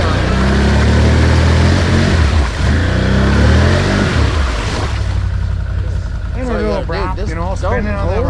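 A Can-Am or Honda ATV engine revs hard as its wheels spin on a slick flat rock ledge, a loud sustained roar close by that eases toward the end while people talk nearby.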